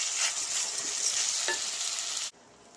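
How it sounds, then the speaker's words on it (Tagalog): Rice stirred in a little hot oil for kushari crackles in a loud, continuous sizzle with scraping turns of the spoon, then stops abruptly near the end, leaving near silence. "Maglagay lang ako ng konting mantika. Ikot-ikot lang saglit."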